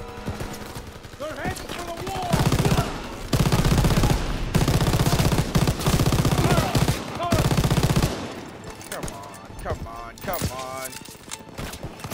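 Sustained machine-gun bursts in a D-Day battle video game, loud and dense through the middle, mixed with shouting soldiers and scattered shots before and after.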